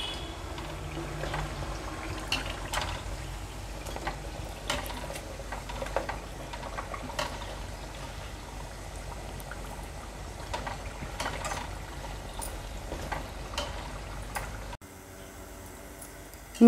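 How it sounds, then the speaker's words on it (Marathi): Modak dumplings fry in hot oil over a high flame, giving a steady close sizzle with scattered crackles and pops throughout, then cutting to a quieter background near the end. "मिनिटभर झालंय हाय फ्लेमवर हे मोदक आपण फ्राय करून घेत होतो।"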